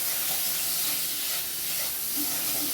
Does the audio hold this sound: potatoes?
yes